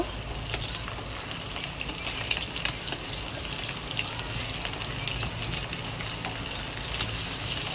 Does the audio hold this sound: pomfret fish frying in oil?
yes